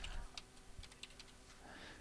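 Fingers type on a computer keyboard in a quiet room, a brisk irregular run of light clicking keystrokes at close range with no talk.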